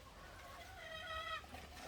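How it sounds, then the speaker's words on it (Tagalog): Faint clucking from chickens, with one drawn-out, wavering call in the middle, distant and quiet over a low background hum. "Kasi may manok. Ganyan talaga pag may manok."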